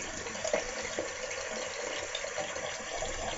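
Tap water runs steadily from a faucet into a sink while someone rinses after a straight-razor shave, a continuous close splash with small surges and no talk.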